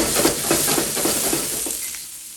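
Vegetables sizzle loudly in a hot pan while being stirred for pineapple fried rice, with rhythmic scraping strokes that fade toward the end.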